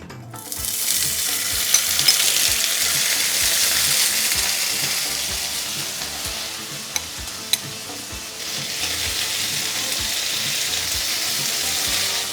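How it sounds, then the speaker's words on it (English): Potatoes and stewed garlic fry steadily in an oiled pan, a continuous loud sizzle with soft scraping and tossing sounds and a few sharp clicks, no voices. "I'm going to just get that crispy texture by putting it on the pan and tossing it in"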